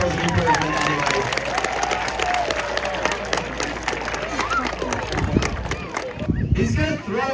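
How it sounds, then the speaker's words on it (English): Audience at a sea lion show at Blackpool Zoo gives a round of applause, a steady crowd wash of clapping and murmur lasting several seconds and fading near the end, with people talking in the background. "Let's give Lolita a big round of applause and encouragement anyway."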